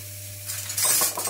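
Garlic cloves and two chili peppers drop into hot oil, and a sudden sizzle rises and holds for about a second, close and fairly loud over a low steady hum.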